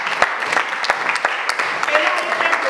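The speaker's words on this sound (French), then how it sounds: "On peut l'applaudir." Audience applause at a community gathering, loose clapping with sharp individual claps standing out, mixed with talk and crowd voices.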